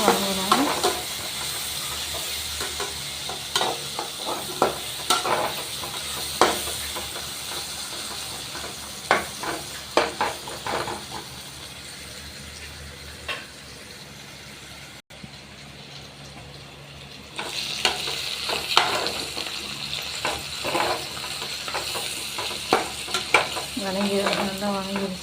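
Green chili sautéing in a pan, a steady close sizzle with frequent scraping and clinking strokes of a spoon stirring, easing off briefly midway before the frying and stirring pick up again louder.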